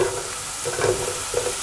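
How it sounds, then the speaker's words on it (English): Sliced mushrooms fry over high heat in a pan, giving a steady close sizzle with a few soft stirring scrapes and bumps, no voices. "I'm going to add half of the sliced mushrooms in there, and we're going to cook them on high heat for approximately 5 minutes"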